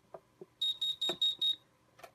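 Buzzer on a type 4 fire alarm panel with two loops during a lamp test, sounding five short, evenly spaced high-pitched beeps close up, with a few faint clicks around them.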